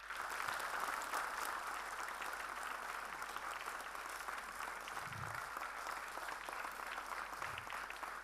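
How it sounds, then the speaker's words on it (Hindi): A theatre audience gives a director sustained applause, an even, continuous roar of many hands clapping that holds steady throughout, slightly distant, with a couple of faint low thuds. "मैं चाहूंगा एक बार जोरदार तालियां बजाएं उनके लिए"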